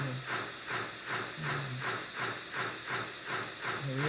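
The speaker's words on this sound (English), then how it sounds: "The real steam hissing and everything." A steam locomotive in a voxel train video game gives off a rhythmic chuffing hiss, regular pulses of steam at a steady pace, fairly quiet, with brief low voice sounds in the background.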